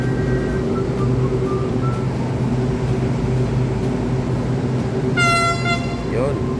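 An LRT train rumbles steadily up close throughout, with a loud burst of horn toots near the end over the continuous rolling noise.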